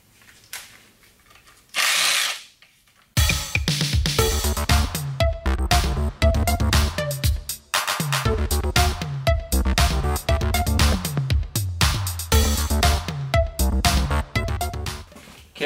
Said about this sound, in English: all these bolts are 10 millimeters. So you're gonna start taking them out